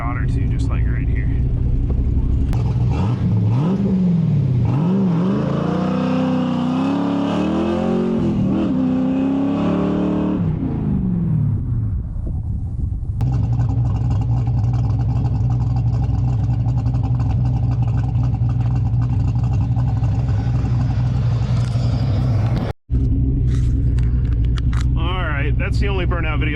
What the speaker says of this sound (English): Wasn't really much of a burnout, just kind of a peel out, but whatever. It'll keep spinning the tires all the way through second and almost third.